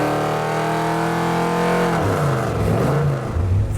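An AMC 360 V8 on a dyno screams steadily to 7000 rpm with a loud, sustained rising wail, then its pitch drops and it settles into a rougher roar.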